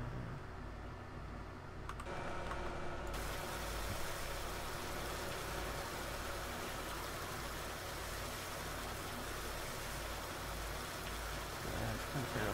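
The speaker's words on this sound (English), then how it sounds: "Alright, let's give it a hose down." A pressure hose sprays down a work tractor in the Farming Simulator 19 video game, a steady hissing wash of water running without a break under faint engine hum, near and fairly loud.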